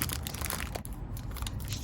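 A small parcel of houseplants is being unwrapped, with close crinkling and crunching of plastic packaging in quick irregular bursts.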